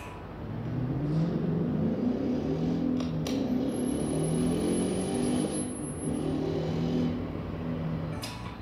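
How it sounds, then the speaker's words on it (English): A Ford Mustang GT V8 engine rumbles and revs in a steady, low, throaty drone, moderately loud and sustained for several seconds, with no voices over it. "The answer is Mustang GT."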